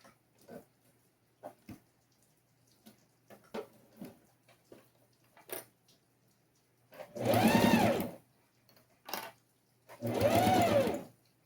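Sewing machine stitching fabric for a glasses case, two loud sustained whirring runs of about a second each, preceded by quiet clicks and handling of the material, no talking.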